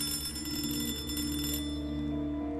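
A telephone rings in the video game Hello Neighbor, a steady electronic ringing tone that holds throughout, loud and alone.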